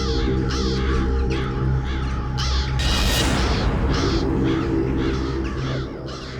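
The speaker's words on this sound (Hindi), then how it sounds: "इतने सारे कौवे इस वक्त?" A large flock of crows cawing harshly and repeatedly, many overlapping raucous calls close and loud over a rumbling dark background with a burst of noise midway, no speech.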